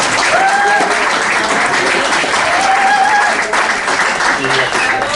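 Audience applause fills the room at a talk about photographers, a dense, loud wash of clapping with a few whistles, while a voice speaks over it.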